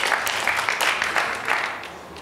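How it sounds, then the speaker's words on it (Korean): Audience applause breaks out after a scoring shot at a professional three-cushion billiards match, a steady clapping wash from an indoor crowd lasting a couple of seconds. "박수갈채가 나올 것 같습니다"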